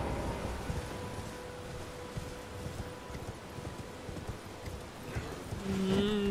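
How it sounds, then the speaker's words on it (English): Hoofbeats of a spectral steed horse in Elden Ring, a steady rapid clip-clop galloping under game ambience, with a tonal chime near the end. "I forgot, I have a spectral steed"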